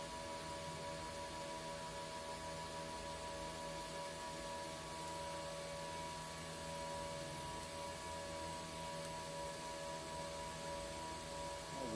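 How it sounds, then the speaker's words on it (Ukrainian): A SPIKA Multi-GMAW 350-3 DP LCD welding machine doing lift-arc tungsten welding on metal gives a steady, even electrical hum and buzz that runs unbroken for the whole stretch, with no talking. "і відриваємо вольфрам. Відводимо. І у нас почався процес зварювання."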